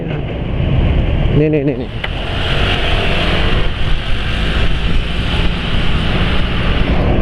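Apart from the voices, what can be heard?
motorcycle engine running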